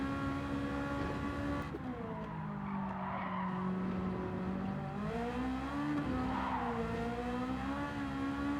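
A tuned Ferrari, a 430 Scuderia or 458 Italia, loses traction on the Nordschleife: tires squeal and skid in long wavering howls over a steady engine note, swelling twice, with no one speaking.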